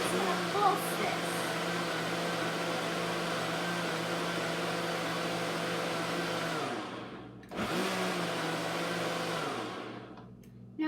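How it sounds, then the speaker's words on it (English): A blender pulses a green smoothie of spinach and other ingredients, a loud steady motor roar that drops off briefly near the end before surging again for a moment. "stopping this with the pulsing, it helps to break up the ingredients and mix them through the blender"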